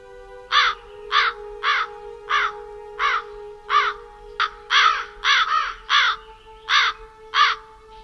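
Raven cawing as a dramatized sound effect, a series of about a dozen loud, harsh caws in an uneven rhythm, close and alone over a steady low hum.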